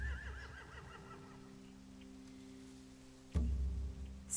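A horse in The Walking Dead: The Final Season video game gives a wavering whinny at the start over low ambient game drones, followed later by a sudden louder thud-like burst.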